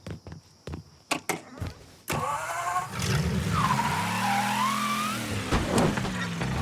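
Car engine and skidding tyres in the Mafia 3 video game, with sharp clicks at first, then a steady engine drone joined by a rising and falling tyre squeal, loud and close.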